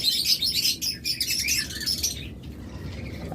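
Red-winged lovebirds chirp rapidly and shrilly at close range in a bird shop, with busy overlapping tweets that fade toward the end.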